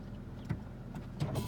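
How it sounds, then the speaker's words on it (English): A power rear sliding window on a 2017 Toyota Tacoma pickup hums quietly inside the cab, a low motor whir with a couple of faint clicks toward the end, heard alone with no talk. "Rear sliding window."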